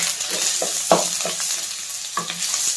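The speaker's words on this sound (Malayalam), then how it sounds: "ഇനി നമുക്കിതിലേക്ക് നമ്മൾ 2 സവോള നീളത്തിൽ എരിഞ്ഞത് ചേർത്ത് കൊടുക്കുന്നുണ്ട്." Two long-sliced onions fry in hot oil for a Kerala duck roast, a steady sizzle broken by a few sharp spatula scrapes and stirs against the pan, close and fairly loud.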